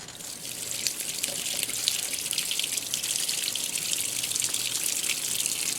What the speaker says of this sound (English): it fills just like an old school washer would